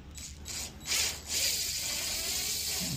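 Power drill whirring in short bursts as it drives a screw slowly into an electrical switch during an installation in Ecuador, close and fairly loud, with a longer steady run after two brief pulses.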